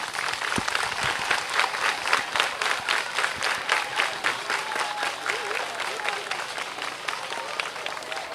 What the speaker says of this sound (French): je voudrais que vous applaudissiez tous ceux qui ont envoyé ceci-là ici